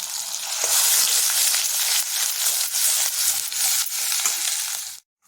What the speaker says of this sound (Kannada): ಇದನ್ನು ಚೆನ್ನಾಗಿ ಒಂದು ಸ್ವಲ್ಪ ಜಿಡ್ ಬಿಟ್ಕೊಳ್ಳೋವರೆಗೂ ಹುರ್ಕೊಳ್ಳೋಣ